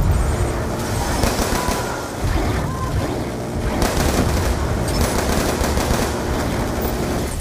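Bursts of heavy machine gun fire in the video game Call of Duty Black Ops 2, loud rapid volleys with short pauses, mixed with game battle noise and faint voices.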